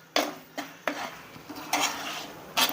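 Spices sautéed in a pan over low heat for a paneer matar gravy, with several distinct spoon scrapes and clanks against the pan over a soft sizzle, no talking.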